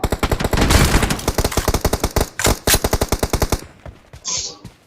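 An M4 rifle fires in PUBG Mobile as rapid automatic bursts of sharp, loud shots in a steady rhythm, ending with a brief pause and a softer tail.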